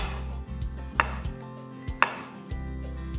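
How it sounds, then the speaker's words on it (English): A knife chops garlic slivers for a lamb roast on a board, with several sharp, distinct cuts and knocks landing at irregular intervals over a low, steady background hum. "Crush the garlic bulb and then peel some of the garlic, and then you just slice it into small slithers, nice and thin."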